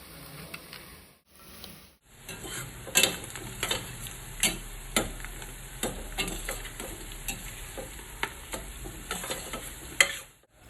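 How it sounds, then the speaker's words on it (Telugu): Bay leaf and nutmeg frying with onions in hot oil for a Dindigul thalpakatti chicken biryani, giving a steady low sizzle broken by sharp stirring clicks and scrapes, close and fairly quiet, with no voices. "ఆనియన్స్ బాగా దోరగా ఫ్రై అయ్యాక అందులో ఇప్పుడు బిర్యానీ ఆకు అండ్ నట్మగ్ వేసుకొని ఫ్రై చేసేసుకోవాలి"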